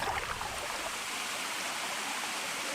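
Waterfall rushing somewhere back in the woods near a lake on a canoe camping trip in Temagami, a steady broadband wash of falling water that holds constant and fairly soft for the whole stretch, with no voices.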